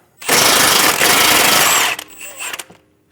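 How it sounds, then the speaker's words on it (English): A power tool with a socket spins the nut off a strut bolt on a 2010-2015 BMW X1 xDrive, a loud close burst of rattling impact hammering for about two seconds, then shorter taps. "Using an 18mm socket and an 18mm wrench, I'm going to hold the bolt still while I remove the nut."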